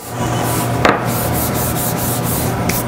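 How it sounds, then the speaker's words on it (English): Excess powdered sugar is brushed off rolled fondant with a continuous, soft rubbing swish and one brief sharper scrape, close and steady throughout. "Once it's rolled to the thickness that you like, you want to go ahead and dust off the excess powdered sugar."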